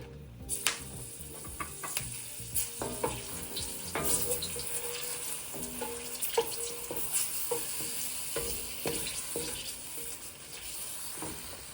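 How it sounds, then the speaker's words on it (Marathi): Dried red chillies crackle and sizzle in 4-5 spoons of hot oil, with irregular clatters of stirring and pan contact and scattered pops over a steady frying hiss, close and moderately loud, with no talk. "तेल गरम झालेलं आहे. मी आता मिरची टाकतो याच्यामध्ये"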